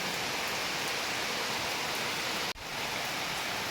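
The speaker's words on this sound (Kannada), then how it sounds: "ಒಳ್ಳೆ ಬಂತು ಮಳೆ ನೋಡಿ" Heavy evening rain pours down in a constant, dense hiss that fills the air. A very brief break interrupts it partway through, and no one speaks.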